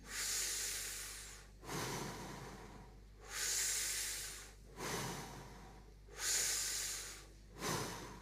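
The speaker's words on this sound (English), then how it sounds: "we're going to take 3 breaths through the mouth and 3 through the nose" Slow, deep guided breaths drawn in and pushed out through mouth and nose, close and steady, about six long whooshing breaths in an even rhythm with no talking.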